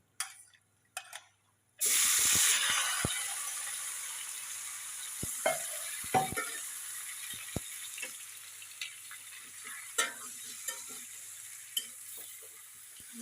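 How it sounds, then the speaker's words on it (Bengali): Marinated goat meat with cumin seeds drops into a hot pan with a loud burst of sizzling, then keeps frying steadily under occasional scraping stirs as it is sautéed for a Bengali bhuna. "দেখেন মাংসটা কষাচ্ছি।"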